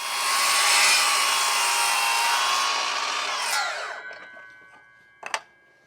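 A power saw cuts stair nosing timber to length during a staircase fit: a loud, sustained whine through the cut, then it spins down, and a sharp clatter follows after a short pause.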